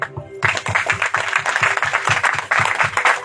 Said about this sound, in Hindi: हम परमेश्वर के सम्मुख में ताली बजाते हैं।